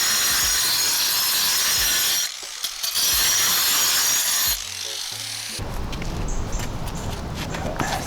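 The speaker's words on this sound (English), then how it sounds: "we chose a few spots to cut them down with this angle grinder" Angle grinder cutting down concrete cap blocks in a backyard, a loud steady high-pitched grinding roar that runs for several seconds, cuts out briefly, resumes, then changes pitch as the disc bites into the block.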